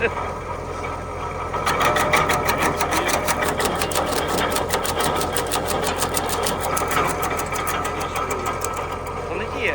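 A heavy MTZ-80 tractor engine drones steadily and loudly under strain while powering an Arpal AM-120TR loader, with a rapid mechanical ticking running through it; voices can be heard faintly amid the noise.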